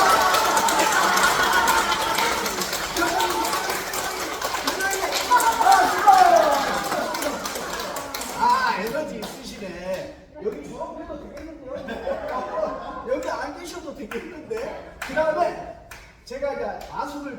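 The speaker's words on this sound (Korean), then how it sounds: "제가 10초를 셀 테니까 막 웃으시면서 한번 쳐보실게요 박수 시작" Elderly audience at a senior day-care center's gospel magic show clapping and laughing energetically for about eight seconds, the dense clapping then thinning into scattered claps and chatter.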